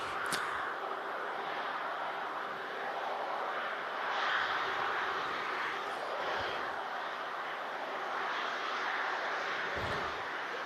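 A Boeing 787-10 Dreamliner touches down at Manchester Airport, heard as a steady broadband jet roar at moderate distance with no speech.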